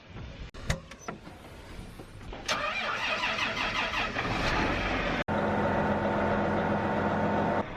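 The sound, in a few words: tractor engine starting and running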